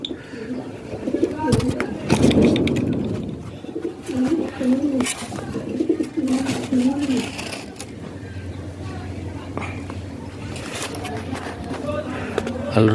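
Domestic pigeons coo in repeated soft, throaty rolls close by, mixed with rustling, scratching and occasional crunching sounds.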